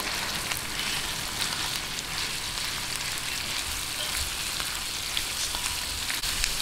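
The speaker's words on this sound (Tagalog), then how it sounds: "Lagay na po natin itong giniling." Ground meat frying with softened onions in a pan for gising-gising, a steady close hiss and crackle of sizzling fat with faint stirring; no talk.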